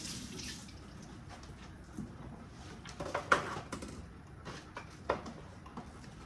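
Tap water runs into a kitchen sink as onion tops are rinsed, a soft steady stream with faint splashes and a few brighter drips, fairly quiet and with no talking.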